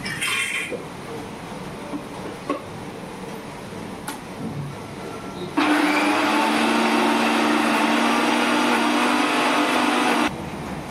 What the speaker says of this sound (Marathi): तोपर्यंत आपण हे डाळ मिक्सरमध्ये वाटून घ्यायची आपल्याला